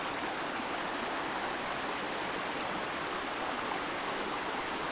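Constant rushing of the San Gabriel River's East Fork, a steady broadband wash with no voices.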